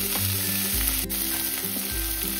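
Chopped radish leaves tipped into onion and green chili already frying in hot oil, giving a loud, steady sizzle with a brief crackling burst as the greens hit the pan, and no talking.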